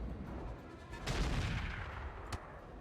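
BattleMech weapons fire in the RogueTech game as a rumbling burst of explosive gunfire swells around one second and is followed by a single sharp crack near the end, heard over a steady low background.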